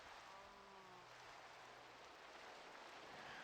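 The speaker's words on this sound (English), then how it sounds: "And of course, it's raining." Minecraft rain falling as a soft, continuous hiss, very faint and steady throughout, with a brief low tonal sweep near the start.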